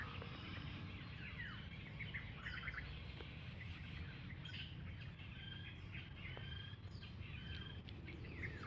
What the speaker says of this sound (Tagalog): Tapos ang daming ibon dito.